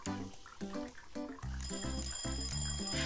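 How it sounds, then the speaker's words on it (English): Bright electronic timer alarms ring repeatedly in the cooking game Papa's Donuteria, overlapping chimes and bell-like tones stacking over bouncy game music, with no talking. "So many alarms."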